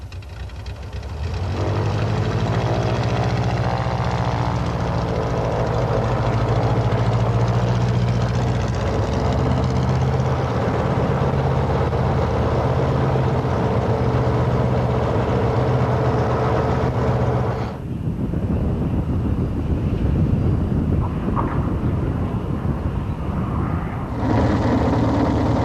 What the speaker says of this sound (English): The new engine sounds fine, so here goes. First, some taxi tests